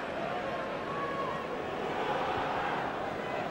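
The Welsh crowd at a 1999 rugby union match between Wales and Argentina in Cardiff makes a steady, dense roar of babble throughout, loud and unbroken.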